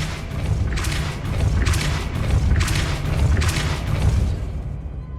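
A Depulso spell fires in Hogwarts Legacy, a series of deep rumbling booms with whooshing bursts repeating roughly every second over a loud, dense game soundscape.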